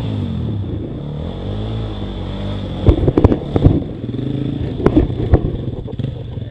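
A motorcycle riding through sand, its engine droning steadily and loudly up close, then clattering knocks and jolts as the rider shifts down through second gear toward first.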